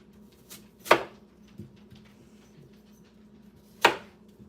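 Two sharp, loud chopping thuds of food being cut into quarter slices stand out against a quiet background, spaced about three seconds apart with a softer knock between.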